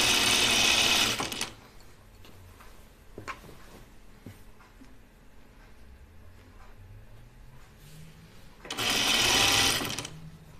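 A sewing machine stitches the end of a shirtdress seam in two loud, brief runs, one at the start and one near the end, with quiet handling of fabric between them.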